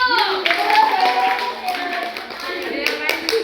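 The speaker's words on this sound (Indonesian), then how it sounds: "Tepuk tangan dulu." Children clap their hands during a church youth mentoring session in a Catholic parish, a short burst of clapping blended with excited voices and chatter throughout.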